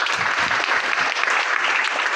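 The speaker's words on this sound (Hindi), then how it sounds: "एक बार जोरदार ताली" An audience at a motivational business talk applauds, a dense, steady wash of clapping that holds loud and even from start to finish.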